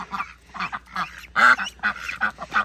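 Ducks on a homestead quack and honk in a busy run of short, nasal calls, close and fairly loud, with no talking over them.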